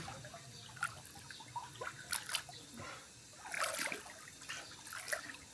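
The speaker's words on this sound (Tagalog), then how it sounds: "Nag-fill up na siya og tubig." Soft trickling and splashing of water, faint and uneven, like liquid pouring into a container.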